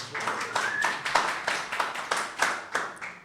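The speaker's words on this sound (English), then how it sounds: "I think they deserve a round of applause." Sparse clapping from a small audience at a PHP developer meetup, a handful of hands striking in an uneven rhythm of distinct claps over about three seconds, moderately loud in a room with light background noise.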